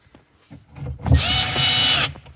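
A power drill drives 35mm screws up through the base of a Vangear Woody-Pod, one loud burst of about a second, close by, following a few light handling knocks.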